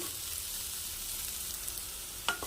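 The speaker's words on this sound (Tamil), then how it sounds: "வெண்டைக்காய் அந்த ஆயிலே நல்லா வதங்கிக்கிட்டு இருக்கு" Sliced okra sautéing in oil in a pan, a steady soft sizzle with a brief clink or stir near the end.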